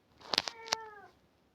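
A cat meows indoors in one short, close, clear call with a rising then sliding tone, followed by quiet.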